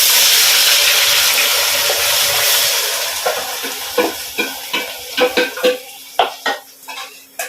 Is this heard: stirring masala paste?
yes